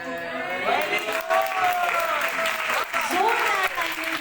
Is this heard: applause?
yes